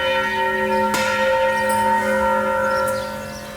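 Cathedral church bells ringing out, a struck bell at about one second layering sustained metallic harmonics over a continuous ringing tone that slowly fades toward the end.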